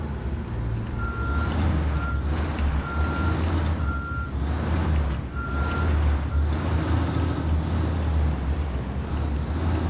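A truck in the video game Ghost Recon Wildlands backs up, its reversing alarm beeping in a regular repeating pattern over a loud, steady engine rumble, without speech.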